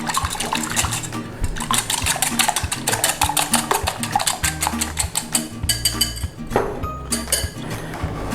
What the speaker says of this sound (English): we need to give this a little bit of a beating. We want this beaten up